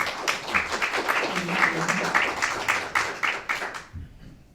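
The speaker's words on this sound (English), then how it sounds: "So please give yourselves a great big round of applause." Audience applause at a music talk, steady hand clapping with a faint voice underneath, tapering off and dying away near the end.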